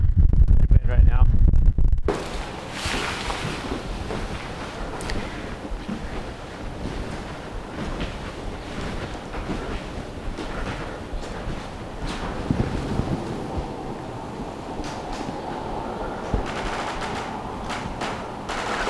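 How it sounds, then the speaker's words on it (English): A 12 to 13 mph headwind buffets the microphone of a touring bicycle rider in the Oregon Outback, a loud, steady roar of gusty rumble that continues without a break after a short opening burst. "This is like a 12, 13 mile an hour headwind right now."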